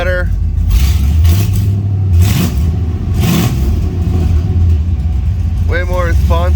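An LS-swapped OBS Ford truck engine idles with a deep, steady rumble and a few light throttle swells, heard from inside the cab, with a short voice near the end.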